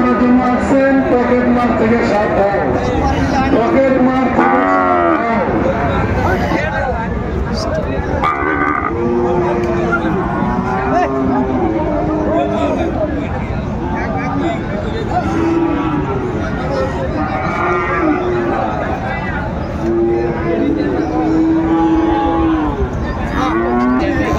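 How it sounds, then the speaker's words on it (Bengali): A young Sahiwal bull calf moos repeatedly amid a crowded cattle market in Dinajpur, with people talking loudly nearby throughout. "শাহিওয়ালের ষাঁড় বাচ্চা।"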